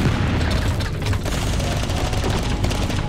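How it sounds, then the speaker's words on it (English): Orbital strike grenades exploding in the video game Totally Accurate Battlegrounds produce a dense, continuous barrage of booming blasts and rapid cracks that roll together loudly for several seconds without pause. "Alright, I'm gonna throw orbital strike grenades."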